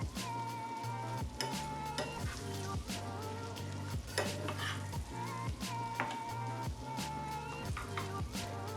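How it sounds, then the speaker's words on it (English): Shrimp poaching in butter in a pan sizzle steadily while being given a quick stir, with soft scrapes and taps of the utensil over a constant frying hiss, close and without talking. "Just a little stir."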